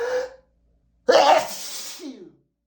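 A man lets out two sneezes in quick succession during a rapid sneezing fit. The first is short and the second is louder and longer, ending in a breathy trail, both close and on their own.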